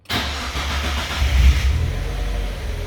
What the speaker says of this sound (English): No throttle, fires up, Car will start, does a thing. idle reasonably happy.